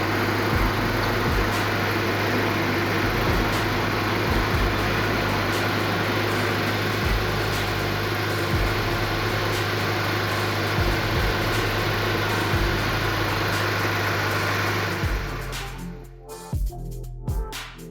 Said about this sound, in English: Here is the exhaust note